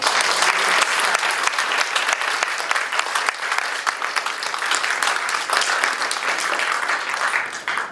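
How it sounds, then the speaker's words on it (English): An audience gives sustained applause for Dimitar and Nabil: dense, continuous clapping from a sizeable crowd that holds steady for several seconds before thinning slightly at the end. "we had a round of applause for Dimitar and Nabil"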